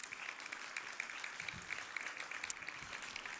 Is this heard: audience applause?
yes